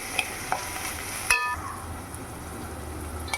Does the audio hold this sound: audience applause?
no